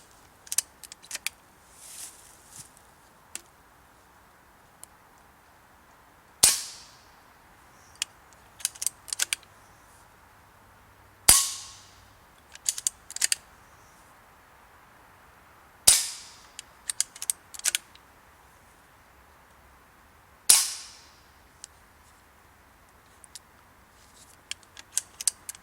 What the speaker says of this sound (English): I'll take a shot just off into the distance so you don't have the sound of the can interfering with it.